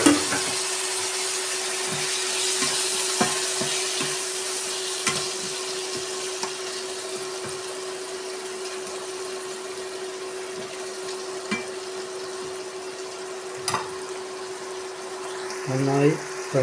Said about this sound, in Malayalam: നന്നായി ഫ്രൈ ചെയ്തെടുക്കാം.